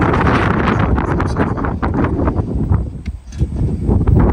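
Strong wind buffets the microphone outdoors during a first test run of an Element Enduro Fox RC rock crawler, a loud, gusting roar that swells and dips, with no talk.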